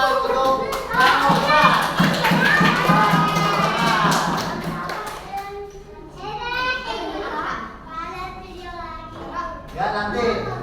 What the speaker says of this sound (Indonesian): Jadi tepuk tangan untuk kamu.